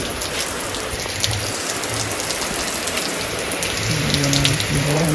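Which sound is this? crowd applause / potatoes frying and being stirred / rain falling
rain falling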